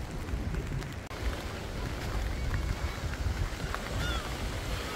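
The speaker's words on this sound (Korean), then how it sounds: "바람이 엄청 부네요" Strong wind roars at a rainy beach, a dense, steady rush of gusts buffeting the microphone, with surf-like noise throughout and no clear voices.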